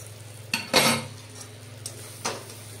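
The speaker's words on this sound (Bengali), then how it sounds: "ভালো করে কষিয়ে এবার তরকার ডালটা ঢেলে দেবো, সেদ্ধ হয়ে গেছে।" Boiled lentils (dal) tipped into a pan of sautéed spices in a home kitchen, with a couple of sharp utensil clanks and a short sloshing, sizzling burst, followed by quieter scraping and a steady low hum.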